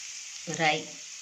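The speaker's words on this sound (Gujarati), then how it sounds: "રાઈ આપણી સરસ તતડી ગઈ છે" Mustard seeds hit hot oil in a pan for a tempering: a short, close burst of crackling and sizzling that swells and fades within about half a second over a steady background hiss.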